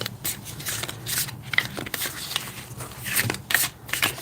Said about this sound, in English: I'm shuffling tarot cards.